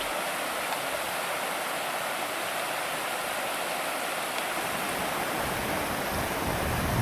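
Gradac river rushing through a gorge, a steady loud broadband wash of flowing water without pause, no voices.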